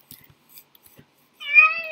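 A cat meows in Minecraft with the Mo' Creatures mod, one clear tonal call near the end after a few faint clicks and quiet gaps.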